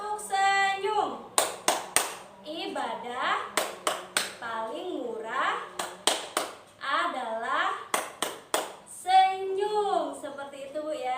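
A group of adults claps along in a 'tepuk senyum' clap game during an ice-breaking session, with sharp, loud clusters of claps breaking in between a leader's spoken and sung chant lines.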